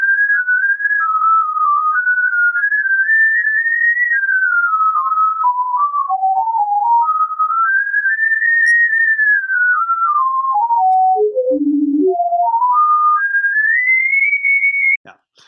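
Whistle-like pure tone from a sonification of three waves converging on a single point, gliding smoothly up and down in pitch with a sudden low dip near the end, steady and loud, without speech.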